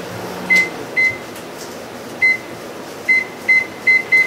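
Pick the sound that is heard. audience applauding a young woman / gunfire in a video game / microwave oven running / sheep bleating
microwave oven running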